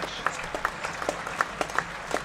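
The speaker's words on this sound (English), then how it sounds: "you can hear the applause echoing around Visit Worcestershire New Road" A crowd claps for a diving catch at New Road cricket ground in Worcester during a T20 Blast match between Worcestershire Rapids and Lancashire Lightning, steady open-air applause echoing around the ground with a few louder individual claps standing out.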